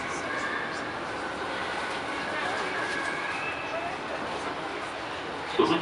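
A Berlin U-Bahn type F76 train departs on line U5 with a steady low rumble and wheel roar that stays even throughout, with a brief knock near the end.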